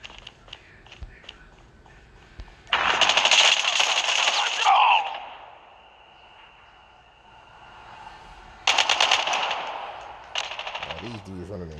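Gunfire in the mobile shooter COD Mobile during a championship match: two loud, dense bursts of rapid automatic fire, each lasting a couple of seconds, separated by quieter game ambience and a few short later shots.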